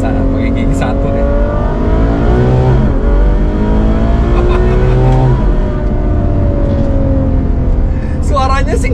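A Ferrari FF engine pulls hard in first gear, heard from inside the cabin behind double-glazed windows, a loud steady drone with rising harmonic sweeps as revs climb, with someone speaking over it.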